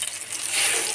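Hilsa fish dry-cooking in a pan with a little oil, giving a steady, close hiss of sizzling that stays even across the short moment, with no talk.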